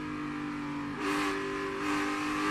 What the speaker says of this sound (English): You hear him hammering that throttle, trying to get the car to turn, get the rear tires to hook up at the same time.